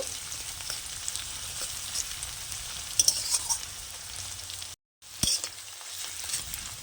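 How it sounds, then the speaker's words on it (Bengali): Onions fry in a pan with a steady, close sizzle and crackle while being stirred, cut by a brief gap of silence, then a stir and more frying. "পেঁয়াজটা আমি লাল করে ভেজে নেব"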